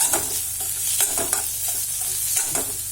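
Sliced onions with salt sauté in a hot pan for a banana flower puttu, a steady sizzle with a few sharper stirring scrapes over it, close and fairly loud, with no talking.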